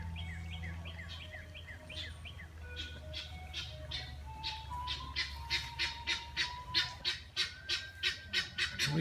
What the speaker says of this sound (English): a racket by the guinea fowl